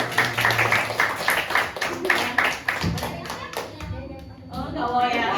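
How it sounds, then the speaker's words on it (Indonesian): A group of children and adults clap hands together during a classroom character-building session on Pancasila, a loud burst of rhythmic claps that thins out toward the end, with voices talking over it. "Tepuk tangan dulu."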